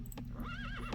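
A light horse unit in Rise of Nations lets out a short, wavering neigh as it dies. The whinny sounds brief and mid-distance over a low, steady game-battle hum, with no talking.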